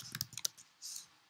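A computer mouse clicks a few times in quick succession, soft and close, with no talking.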